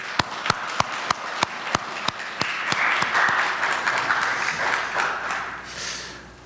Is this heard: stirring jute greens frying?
no